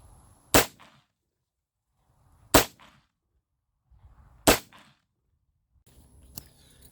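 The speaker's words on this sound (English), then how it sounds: "I'm going to shoot at each one at those different distances" Three sharp gunshots ring out at target practice from 7 yards, evenly spaced about two seconds apart, each a loud crack followed by quiet, then a faint click near the end.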